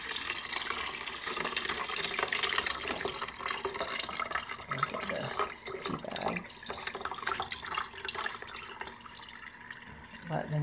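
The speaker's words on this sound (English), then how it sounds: "I go ahead and strain the concentrate" Brewed tea concentrate being strained into a container, liquid pouring and trickling steadily with small splashes and drips, close by, while a person talks over it.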